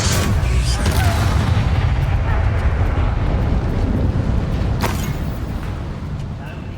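A deep, booming blast from the Bombarda spell in Hogwarts Legacy, a loud rumbling explosion that fills the clip and slowly fades, with a voice speaking briefly.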